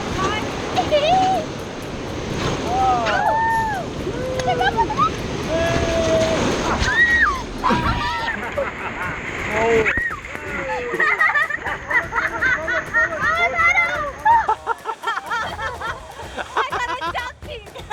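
Whitewater rapids on the Ayung River in Bali rush and splash continuously against an inflatable raft, with loud shouts and excited whoops from the rafters over the roaring water.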